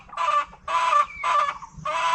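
A chicken gives four loud, close, drawn-out clucking squawks in a row, each a harsh nasal call separated by brief pauses, with no talking.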